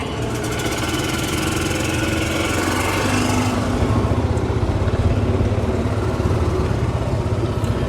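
A golf cart driving on a scenic course path in The Villages, Florida: a steady, close, buzzing engine drone that holds constant throughout with a slight rise midway, and no talking.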